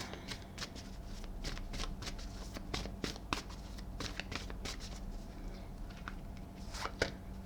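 A deck of oracle cards is shuffled by hand in a quiet room, giving a steady run of soft, crisp riffling and slapping strokes close by, with no talk over them.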